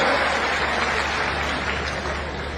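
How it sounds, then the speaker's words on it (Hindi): A large crowd claps steadily at an outdoor political rally for an irrigation project foundation ceremony in Nasrullaganj, Sehore, a dense continuous wash of applause with no clear talk. "अब इसका तो ताली बजा दे"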